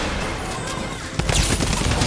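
Rapid burst of automatic gunfire from Midas's drum gun in Fortnite, a dense loud rattle that starts abruptly partway through, with no speech over it.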